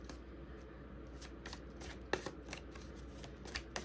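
Tarot cards being shuffled by hand at close range, a soft continuous riffling with small crisp snaps, over a low steady room hum and no talk.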